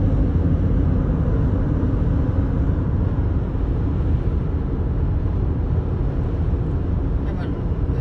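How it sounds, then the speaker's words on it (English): Loud, constant road roar and low engine rumble fill the cabin of a noisy car driving through Marble Falls, Texas, a dense steady drone with no breaks. "I have to remember to talk loud because my car's so loud."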